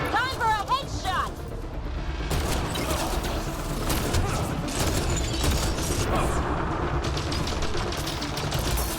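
Rapid gunfire bursts from the video game Mass Effect: Andromeda crackle densely and continuously, overlapping with someone talking over the action.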